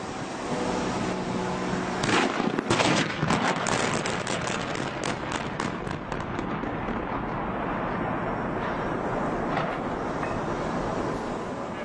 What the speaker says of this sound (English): a lot of loud bangs, as you heard there. Dynamite going off around the base.